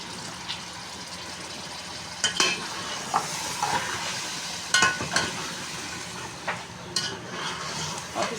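Palak gosht meat fries with yogurt in a pot, producing a loud continuous sizzle broken by repeated scraping and clinking strokes of a stirring spoon, with no talking.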